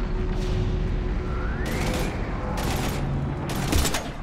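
Gunfire in the sci-fi shooter video game Mass Effect 3, heard as three loud bursts of rapid shots spaced about a second apart over a dense, rumbling battle background with a rising whine between them.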